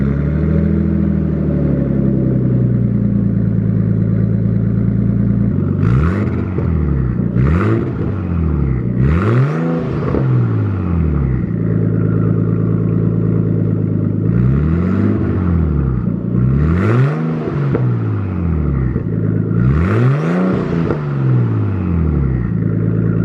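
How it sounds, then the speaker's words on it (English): A Nissan Skyline R32 engine, cold-started after a downpipe install, idles loudly and close, then rises and falls through several sharp throttle revs with a deep exhaust rumble. "Right now I'm going to go ahead and start it, get the nice cold start, and then check for leaks."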